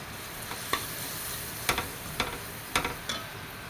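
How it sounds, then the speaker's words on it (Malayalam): Curry leaves, turmeric, and hot chili powder being sautéed in a pan for a home-style Kerala lunch: a soft steady sizzle broken by a few sharp clicks and scrapes of a spoon against the pan, with no one speaking. "നന്നായിട്ടൊന്ന് വഴറ്റിയെടുക്കാം."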